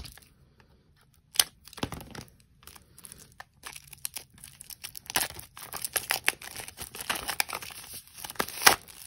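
Plastic-wrapped album packaging is torn open and crumpled by hand, with close, sharp crinkles and tearing bursts that start after a quiet moment and grow busier and louder toward the end.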